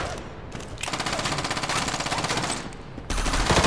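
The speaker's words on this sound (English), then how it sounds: "Oh good, I'm back on the machine gun now." A machine gun fires in the mech combat game Front Mission Evolved: a rapid, sustained burst of loud, evenly spaced shots, preceded by a brief quieter stretch and followed by a heavy boom-like rush.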